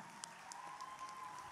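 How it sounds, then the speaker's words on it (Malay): Light applause from a seated audience at a Malaysian MARA foundation launch ceremony, steady scattered clapping with a faint tone running underneath, fairly quiet and distant. "Kita bagi tepukan"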